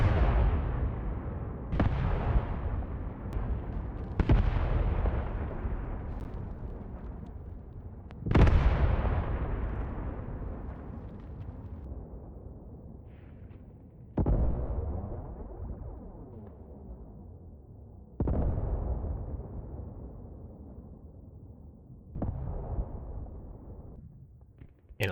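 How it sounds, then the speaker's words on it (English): Artillery shells exploding on a small village in the war game Graviteam, a series of about seven heavy booming blasts spaced several seconds apart, each trailing off in a long rumbling decay. "there's our shrapnel from the scheduled artillery hitting that small village"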